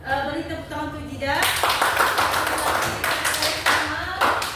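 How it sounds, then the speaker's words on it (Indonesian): Short burst of classroom clapping for a student, a dense patter of many hands starting after a brief spoken line and continuing steadily, with some talk mixed in. "Beri tepuk tangan untuk Jida"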